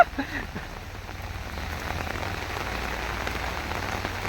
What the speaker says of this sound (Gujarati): એનો એક જ ધારો વરસાદ ચાલુ છે